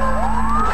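Police car siren in Need for Speed Most Wanted, a loud rising electronic wail over a steady low engine drone, heard close for a brief moment.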